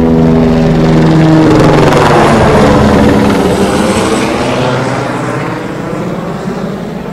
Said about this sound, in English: a Homeland Security helicopter announced its arrival, hovering over the crowd